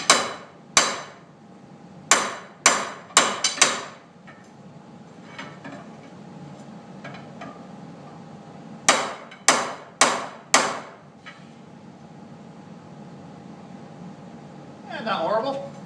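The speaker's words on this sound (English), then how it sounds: "Here, it's just the hammer." Sharp metallic hammer strikes ring out in two quick clusters of blows, loud and close, separated by quieter stretches with faint background noise, while shaping a wire winder spool.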